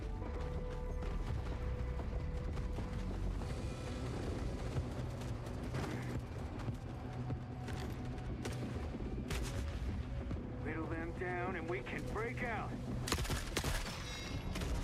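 Shots and explosive booms rattle through a continuous battle din in The Forever Winter, fire aimed at the player amid constant heavy rumble, with a person talking and a brief electronic warbling sound near the end.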